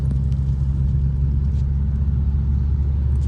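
Seat car engine idling steadily, a loud low rumbling hum that holds constant throughout, close by with no talking.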